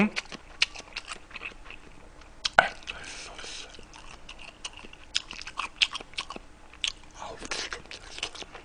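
Close, wet chewing and crunchy bites of Busan fish cake (eomuk) during a home-cooked snack-food mukbang, in irregular bursts with sharp bite clicks and no talking over it.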